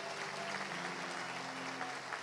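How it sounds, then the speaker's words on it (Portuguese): A church congregation claps together in sustained, dense applause at a worship service, filling the room evenly from start to finish. "dá uma salva de palmas a Jesus."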